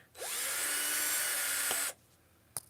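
A power drill bores into a plant pot, a loud steady whine that holds for nearly two seconds before cutting off, followed by a single sharp knock.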